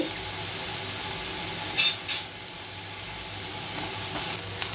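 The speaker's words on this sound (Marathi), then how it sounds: "आता यात 1 चमचा आलं लसूण पेस्ट टाकते।" Ginger-garlic paste sizzles in hot oil for a dhaba-style bhendi masala, a faint, steady crackle and hiss, broken near the middle by two quick metallic clinks of a utensil.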